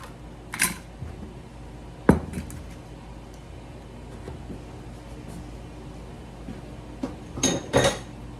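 Dishes and cookware being tidied in a home kitchen: a few scattered clinks and clatters of pots, utensils and glass against a quiet background, spaced out with long pauses and a cluster near the end.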